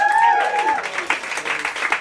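Audience applause and cheering rising after a voice trails off, a dense patter of clapping lasting a couple of seconds.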